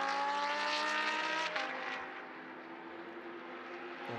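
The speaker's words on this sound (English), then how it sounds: "And we can hear Alfredo Hernandez from a mile away in that V10 Lamborghini Super Trofeo car" A loud, high-revving V10 Lamborghini Super Trofeo race car engine screams past at Mugello, its pitch dropping as it moves away and settles into a sustained roar.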